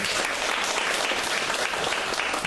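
Audience applause at a teachers' curriculum-restructuring session, a continuous burst of many hands clapping, steady and full throughout, with no talk on top.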